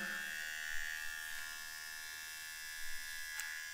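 A Kemei KM 809A electric hair trimmer runs with a steady, fairly quiet high-pitched motor buzz that holds evenly for the whole stretch, close up and alone, with a few faint clicks and bumps.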